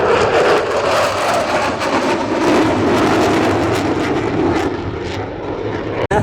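Two jet aircraft approaching fast at low altitude over a Florida air show, a loud continuous roaring rush of engine noise that fills the whole stretch and swells slightly near the end.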